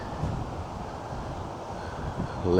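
Strong wind blows across an exposed Cheshire hilltop, a steady broadband roar buffeting the microphone throughout with no speech.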